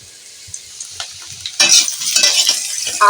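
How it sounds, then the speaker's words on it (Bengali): Kohlrabi and potato sizzle and fry in a hot pan while a utensil scrapes and stirs in irregular strokes, growing louder partway through. "ওলকপিটাকেও দিয়ে দেব কিছুক্ষণ এইভাবে নেড়ে নেব"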